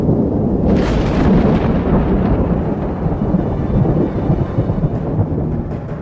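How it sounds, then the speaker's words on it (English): A thunderstorm over the Arlberg mountains, with heavy, continuous rumbling thunder and a loud crack near the start, rolling on for several seconds with rain beneath. "If the wind turns to a northerly or northeasterly, the Arlberg is in for a storm."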